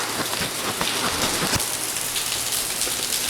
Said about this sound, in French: Les pluies tropicales, c'est vraiment des vraies pluies